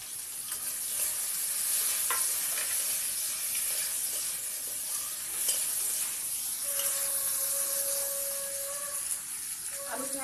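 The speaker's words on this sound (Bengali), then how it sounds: "পেঁয়াজটা একটু ভালো করে ভেজে নেব" Onions fry and sizzle steadily in a pan while a spoon stirs them, a continuous bright hiss with occasional scraping; a faint tone appears near the end, and there is no talk.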